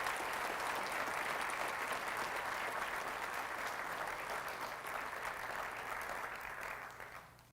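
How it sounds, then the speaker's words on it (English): A college convocation audience applauds new colleagues with sustained, even clapping that fills the hall for about seven seconds before fading out at the end. "Please join me in a round of applause to welcome our new colleagues."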